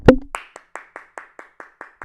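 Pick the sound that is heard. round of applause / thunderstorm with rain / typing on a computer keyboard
round of applause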